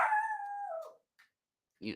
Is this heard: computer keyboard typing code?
no